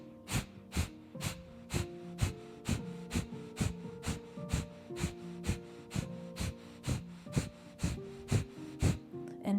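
Rapid rhythmic breathwork breathing, quick sharp inhales and exhales repeating in a steady fast pulse, close and fairly quiet with no talk.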